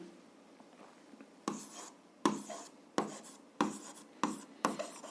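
Pen writing on paper in an exercise book during a 7th-grade algebra exercise: a faint quiet pause, then six or seven distinct close scratchy strokes in quick rhythmic bursts, with no talking.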